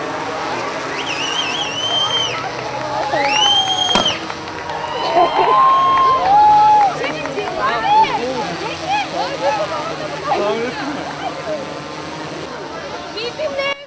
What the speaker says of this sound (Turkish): Çevredeki vatandaşlar da genç çifti alkış yağmuruna tuttu